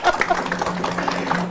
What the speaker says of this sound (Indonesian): Boleh tepuk tangan enggak apa-apa